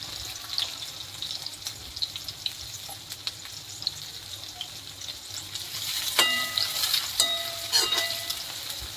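Onion sautés in a pan with cumin, a steady bright sizzle and crackle throughout, louder near the end as it is stirred with scraping clinks of a utensil.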